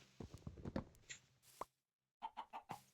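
Chickens cluck in the video game Minecraft: a run of short, close clucks and soft steps, a brief silence, then another quick burst of clucking.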